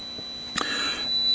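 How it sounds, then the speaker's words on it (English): An audible logic probe beeps while testing the clock signal on a 1976 Atari Breakout arcade circuit board during repair: a steady high electronic tone with brief pulses and a few clicks, fairly loud and alone. "I'm using my audible logic probe to see if this thing pulses when it's supposed to"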